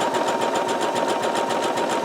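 A Singer Heavy Duty 6800C sewing machine running a zigzag stitch, with a fast, even mechanical whir and regular rapid needle pulses that continue unbroken and close by.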